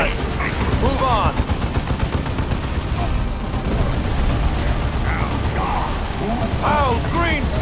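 Continuous battlefield gunfire in Warhammer 40,000: Dawn of War 2, dense rapid mechanical rattling shots and low booms throughout, with voices shouting over the din at several points.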